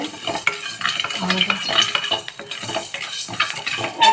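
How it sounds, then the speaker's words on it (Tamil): Rice dry-roasting in a pan for a pepper and fenugreek curry gives a steady close scraping and stirring with light crackling, repeated spoon clinks against the pan and no voices. "இப்போது இதை வந்து கொஞ்சம் நல்லா அரிசி பொரியிற அளவுக்கு கொஞ்சம் ட்ரை ரோஸ்ட் பண்ணிடலாம்"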